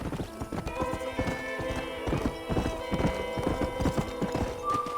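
Horse hooves clip-clopping at a steady trot in the Western video game Red Dead Redemption, loud and close, with a brief whinny near the end.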